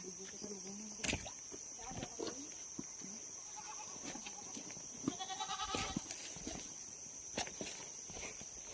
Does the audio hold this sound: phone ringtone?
no